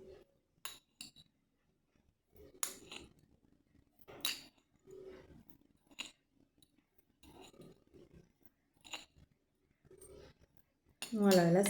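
Spoonfuls of ash are scooped and tapped into a container of salt in a series of soft, sporadic metallic clinks and scrapes, separated by quiet pauses, with a louder clatter at the end.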